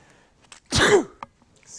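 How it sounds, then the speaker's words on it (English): One loud, forceful sneeze lands close on a microphone in a quiet room during a math lecture on exponential word problems, with a small breathy sound just after. "I think I sneezed right into the microphone"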